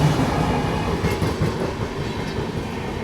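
AP Express passenger train rolling near Balharshah railway station in India, a close, steady rumble with rhythmic clickety-clack of wheels over rail joints and brief metallic squeals, no talking.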